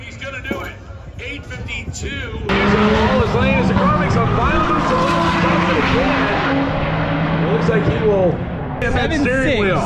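A drag race car launches at a drag racing meet and makes a couple of violent swerves to the left. A loud engine roar with tire noise bursts in after a quieter start and holds steady, under an announcer's commentary.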